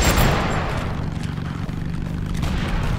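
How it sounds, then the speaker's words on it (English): Heavy rumbling boom from a super bomb in Totally Accurate Battlegrounds, a loud low blast at the start that decays into a sustained, churning roar. "Oh, I think that's a super bomb."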